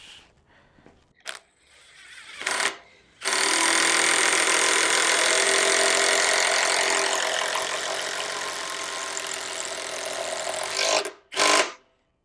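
A compact DeWalt impact wrench drives a screw in one long, loud, continuous burst of rapid hammering lasting about eight seconds, with short bursts just before and after.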